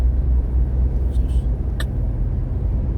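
Heavy road traffic near an airport, trucks included, rolls past as a steady, loud low rumble of engines and tires, with a few brief higher hisses and clanks over it and no clear speech.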